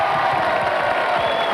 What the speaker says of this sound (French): Quelques applaudissements pour les Bleus.